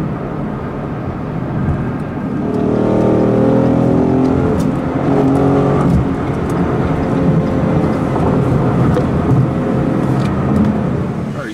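A 2015–2017 Ford Mustang engine fitted with a JLT cold air intake, heard while driving: a steady, loud engine drone that swells into a revving, harmonic-rich pull about a third of the way in and holds strong, with no talking.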